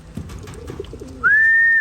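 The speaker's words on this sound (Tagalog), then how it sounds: "Ayan mga ibon." Soft, low racing pigeon coos murmur nearby, then a loud, steady whistling call rings out and holds for about half a second.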